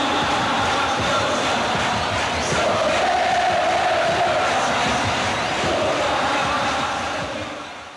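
Huge crowd at a 1989 Lula PT election rally in Brazil, a loud continuous roar of many voices cheering and chanting, swelling slightly midway before fading at the end.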